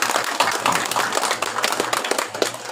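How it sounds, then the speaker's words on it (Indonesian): Crowd applause at a flag ceremony for a school event in West Manggarai, a dense, steady wash of many hands clapping throughout, with a low hum underneath. "Mari kita berikan aplaus untuk diri kita sendiri"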